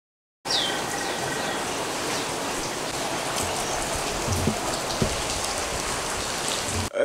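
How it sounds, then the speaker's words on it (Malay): Steady light tropical rain falls during a storm, a constant hiss of drops on surfaces with no talk and a faint bird call early on. "Hujan masih lagi. Hujan dari semalam. Tapi tak lebat lah."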